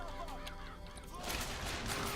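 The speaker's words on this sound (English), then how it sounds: "Press to summon murderous crows." Swarming crows summoned by the Murder of Crows power in the BioShock Infinite video game, a harsh layered cawing and flapping burst over game noise, loud and close with no speech.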